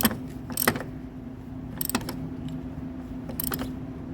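Ratcheting wrench clicks tightening aluminum front strut bolts to torque on a 2017–2019 Chevrolet Volt, three short metallic bursts spaced apart over a low steady background hum, close and fairly quiet.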